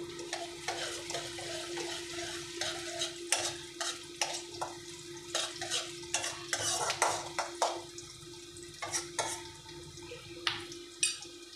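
Boiled lentils tipped into a pot and stirred for a sour tamarind dal, with repeated scraping, clinking stir strokes and faint watery sloshing over a low steady hum, no voices.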